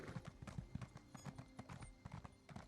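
A horse ridden in the video game Elder Scrolls Online clip-clops along at a steady trot, hooves thudding in a quick regular rhythm, faint and with no talk.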